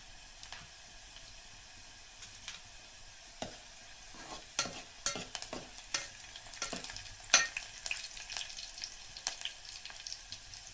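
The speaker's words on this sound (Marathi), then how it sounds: "कांदे थोडा लाल व्हायला द्यायचा कांदा लाल झाला पाहिजे थोडा ब्राऊन" Onions fry and brown in a pan for a Konkan village vegetable dish, a soft steady sizzle broken by scraping stirs that grow busier toward the end, with no talking.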